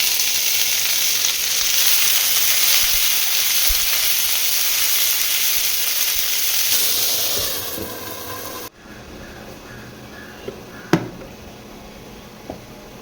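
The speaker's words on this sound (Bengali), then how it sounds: "এবার এর মধ্যে সবজিগুলো দিয়ে দেবো, রসুন, পেঁয়াজ।" Vegetables with garlic and onion dropped into oil after a mustard-seed tempering hiss loudly and steadily for several seconds, then the sound cuts to a quieter scene with a few faint knocks.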